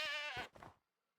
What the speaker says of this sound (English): And also, there's goats.